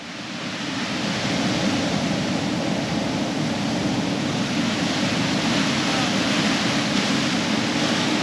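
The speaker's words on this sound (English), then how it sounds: "Big steep cliff faces and a big Indian Ocean swell hitting it." Heavy Indian Ocean swell pounds steep coastal cliffs in a continuous broadband roar, building over the first second and then holding steady and loud, with wind buffeting mixed in and no clear speech.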